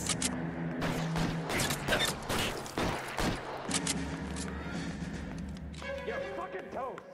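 Gunshots in the video game L.A. Noire, several sharp, loud bursts clustered in the first few seconds over game ambience and voices, followed by calmer background sounds and tonal effects.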